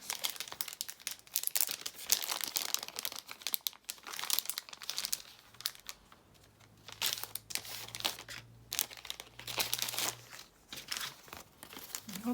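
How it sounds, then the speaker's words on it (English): A paper decoration crinkles and rustles up close and quietly, in irregular crackling bursts with short gaps between them. "I hope that's not crinkling too loudly on there"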